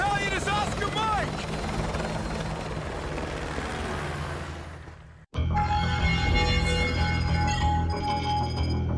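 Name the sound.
military helicopter in video game Call of Duty Modern Warfare 2 Remastered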